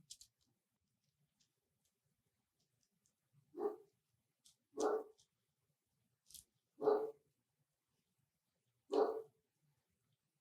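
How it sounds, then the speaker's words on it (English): A dog barks four times at uneven intervals, faint and somewhat distant, with short quiet gaps between barks and a few soft high chirps. "Excuse my dogs in the background."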